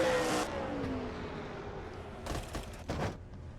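Race trucks in a racing video game sweep past at Richmond, engines whining and fading as they pass, with a couple of louder close roars bursting through near the end.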